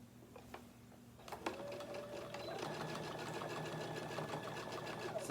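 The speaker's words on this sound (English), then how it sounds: "So now I'm just going to sew all the way around the bag." A sewing machine runs its needle around a cotton tote bag with 100% cotton thread, first a few short bursts, then a steady, close rhythmic whir that carries on alone to the end.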